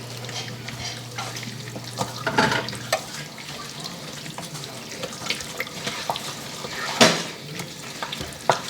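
A wooden spoon mixes taco filling in a pan, producing a steady close rustle and scrape with scattered knocks and one louder clack, and faint low hum early on.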